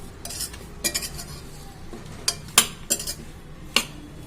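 Ginger garlic paste being stirred into chicken for chicken biryani, a spoon scraping and clinking against the vessel in several sharp, separate strokes, close and fairly loud with quiet pauses between.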